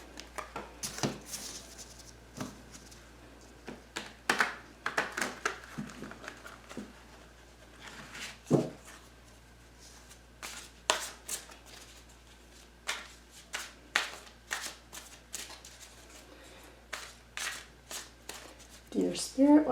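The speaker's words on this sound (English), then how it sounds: "I'm just going to begin by shuffling the cards." Tarot cards being shuffled by hand, repeated crisp riffling bursts and soft slaps at irregular intervals, close and moderately quiet, with a person talking throughout.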